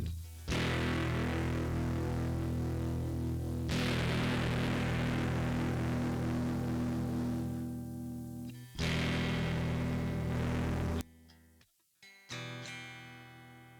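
Electric guitar played through a basic amp with a distortion effect, sustained buzzing chords ringing out in long sections with abrupt cuts between them, ending in sparse, choppy noises.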